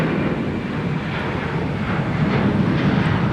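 Fixed-wing airliner passing overhead near Minneapolis–St. Paul Airport, a steady, loud broadband engine roar with wind buffeting that holds constant throughout, with no voices.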